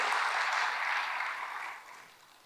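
A church congregation clapping together, a dense wash of applause that starts full and steady, then tapers and fades out after about two seconds.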